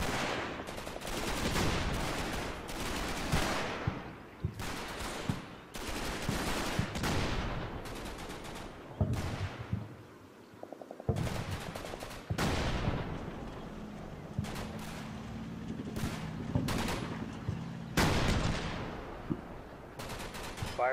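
Artillery spotting rounds and gunfire in the Normandy WWII game Combat Mission: Battle for Normandy. Sharp, loud reports and rattling bursts repeat irregularly, with heavier booms and a short lull midway.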